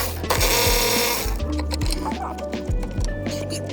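A power tool whirs up close while 10mm bolts come out of a Subaru WRX shifter box, a steady high buzz followed by repeated ratcheting, stuttering pulses of the driver working the bolts loose.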